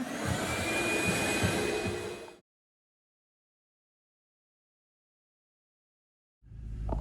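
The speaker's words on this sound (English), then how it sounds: "going to take the time to vacuum up his floors" A vacuum cleaner whirs loudly inside a 1988 Range Rover Classic for a couple of seconds, cuts off into silence, then starts up again near the end.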